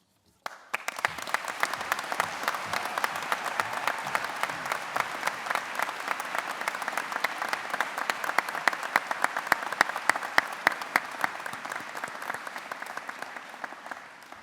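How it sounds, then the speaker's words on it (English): A large graduation audience applauds steadily in a ceremony hall at Chelmsford, dense clapping starting sharply and holding loud and unbroken for the whole stretch with no talk over it. "give yourself a round of applause because you have earned it"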